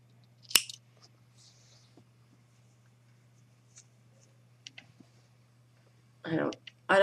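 Scissors snip yarn at a crocheted flower phone holder, one sharp close cut near the start, with faint handling ticks and a low steady hum after it; a voice speaks briefly at the end.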